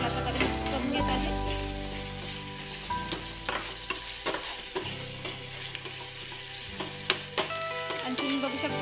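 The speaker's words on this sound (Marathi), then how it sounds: "हे सुद्धा मी चांगल्या प्रकारे मिक्स करून घेत आहे" Ginger garlic paste being stirred into onions in a pan, with steady sizzling and frying under repeated scraping strokes of a spoon, plus a low hum in the background.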